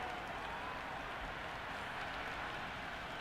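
A stadium crowd in the cricket video game Cricket 26 roars steadily in a dense, unbroken wash of cheering that holds at an even level throughout.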